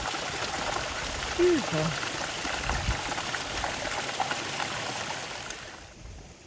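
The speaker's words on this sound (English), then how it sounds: "And then goes down into this little creek." Small mountain creek on the John Muir Trail flowing in a steady broadband rush, a continuous near wash of water that fades slightly at the end, with a brief spoken word over it.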